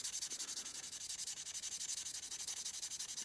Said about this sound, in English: I'm just going to show you use steel wool with a little bit of WD-40